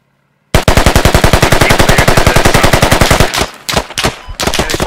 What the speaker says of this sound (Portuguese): bem legal a cadência de tiro da arma